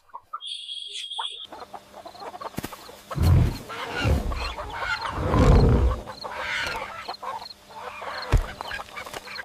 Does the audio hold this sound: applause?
no